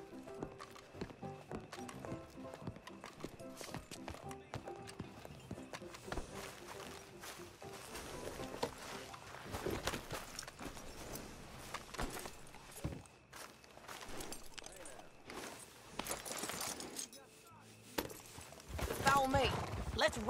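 Horses' hooves clip-clopping as riders set off in the video game Red Dead Redemption 2, a soft, steady hoofbeat rhythm under game music, with characters talking over it.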